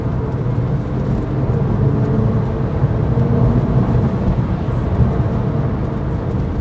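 Porsche 911 Carrera S 997 Gen 2 engine drones steadily at about 5,500 RPM, a dense, constant roar heard from inside the car with no clear peaks.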